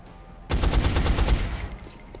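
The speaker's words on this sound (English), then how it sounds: "let's just take some pot shots this turn, see what happens" Burst of rapid gunfire in XCOM: Enemy Unknown, a loud sudden volley of overlapping shots starting after a quiet moment and ringing on for about two seconds before tailing off.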